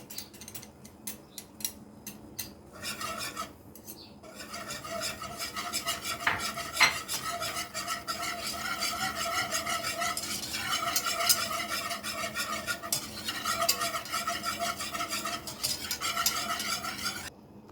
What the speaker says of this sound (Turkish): Unum kavrulurken 3 diş dilimlemiş olduğum sarımsağımı ilave ediyorum.